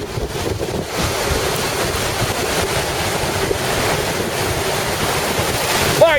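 Big waves roll and crash on Lake Superior at Park Point beach, a continuous loud surge of surf under heavy wind noise on the microphone.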